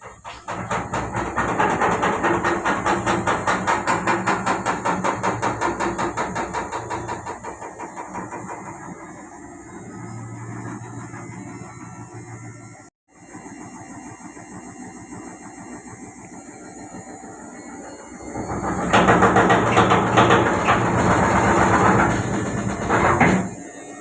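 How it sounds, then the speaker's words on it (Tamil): Samsung washing machine shaking hard during its spin cycle with a drum fault, giving loud, fast rhythmic knocking that eases midway, briefly stops, then comes back louder near the end. "லாஸ்ட்டாக ஸ்பின் போடுற டைம் தான் பயங்கரமாக வைப்ரேஷன் ஆகுது, குதிக்குது"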